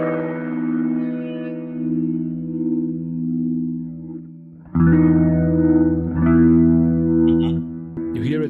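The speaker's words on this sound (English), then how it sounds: "With the rotary speaker, here is the low-high balance." Kemper Profiler guitar tone through a rotary speaker effect, sustained chords swirling and warbling, a quieter held passage, then a louder section of strummed chords with shifting rotor modulation, close and alone.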